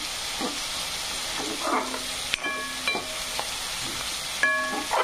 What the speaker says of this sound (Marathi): तर छानपैकी कांदा असा फ्राय झालेला आहे, तळला गेलाय भरपूर असा।